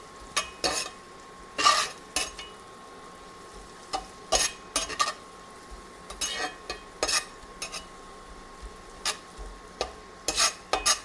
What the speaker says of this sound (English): You want to keep it going and saute the garlic with those onions.